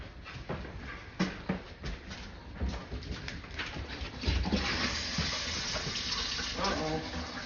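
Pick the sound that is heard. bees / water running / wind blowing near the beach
water running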